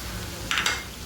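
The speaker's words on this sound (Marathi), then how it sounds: "मसाल्याला तेल सुटेपर्यंत चांगलं हलवून घ्यायचं आहे" Masala with red chilli powder and homemade spice mix stirred in hot oil in a pan, a soft continuous sizzle with brief scraping stir strokes midway, close and alone.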